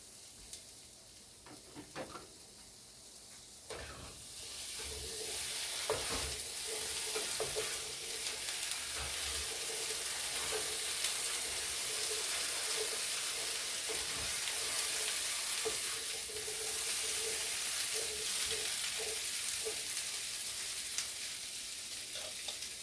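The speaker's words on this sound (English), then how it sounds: "It's time to turn the potatoes." Potatoes frying in a pan on a home stove, a steady loud sizzle hissing throughout, with scraping and clattering as they are stirred and turned partway through.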